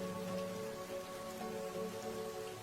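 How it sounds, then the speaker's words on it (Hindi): Steady, dense stormy rain pours down in a cartoon forest, a continuous hiss of drops striking surfaces with no pauses or voices. "कुछ देर के बाद जंगल में तेज हवाएं चलने लगती हैं और थोड़ी ही देर में तूफानी बारिश"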